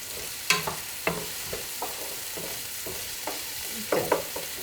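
Chunky onions frying in a pan for kielbasa stir-fry, a continuous sizzle punctuated by several sharp spatula knocks and scrapes at irregular intervals, close by.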